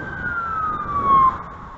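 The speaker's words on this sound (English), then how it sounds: "The siren is supposed to allow them to clear traffic." A police vehicle siren switched on briefly, a steady high wailing tone sweeping slowly downward for about a second over low traffic rumble, moderately loud and somewhat distant.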